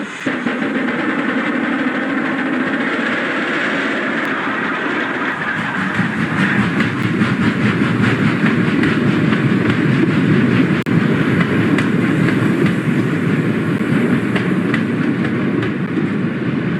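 A steam locomotive pulling away, a loud, close rumbling chug that swells into a rapid, steady rhythmic clatter of wheels and exhaust as the train gathers speed, sustained throughout with no voices.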